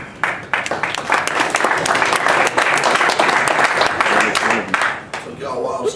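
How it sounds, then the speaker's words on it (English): Crowd applause at the Ortiz vs. Berto II boxing press conference. Clapping swells quickly after a short opening, holds loud and busy for several seconds, then thins out toward the end. "Took y'all a while to start clapping."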